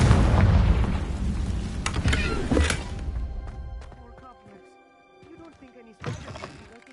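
A Confringo fire spell blast in Hogwarts Legacy, a loud close burst and rumbling explosion that fades out over a few seconds into quiet background music, then a second smaller burst, with a voice casting the spell.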